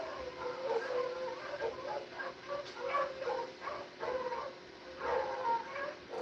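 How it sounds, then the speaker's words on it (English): Dogs bark and yip at a distance in a series of faint, irregular bursts over a low background hum, with no voices close by. "He hears the dogs barking."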